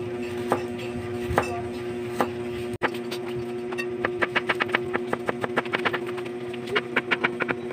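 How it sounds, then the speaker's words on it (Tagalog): A knife chops garlic on a cutting board in a home kitchen while a Bicol coconut-milk dish is being prepared, at first in sparse taps, then in a fast, steady run of close, sharp knocks. "Iwain ko muna yung bawang."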